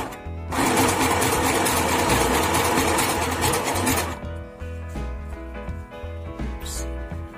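A sewing machine fitted with an overcast foot runs a stitch, a loud close mechanical whirring drone for about three and a half seconds, then stops, leaving a quieter hum with faint clicks.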